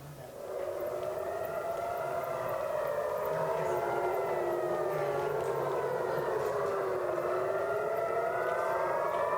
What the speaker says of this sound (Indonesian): membuat sirene peringatan meraung di seluruh penjuru kota Tel Aviv